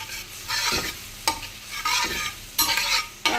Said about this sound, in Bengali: আমি আবারও এই ছোটো বাটির এক বাটি জল দিলাম